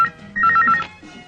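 An indoor telephone rings with a quick warbling electronic burst of repeated pulses, close and fairly loud, then drops back to quiet room tone.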